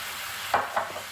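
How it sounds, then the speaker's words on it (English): Ground beef cooking with onions, salt and pepper hisses in a pan as two quick scrapes of a stirring utensil cut through a steady sizzle. "while the ground beef is cooking, I'm going to put the onions in, the salt and pepper"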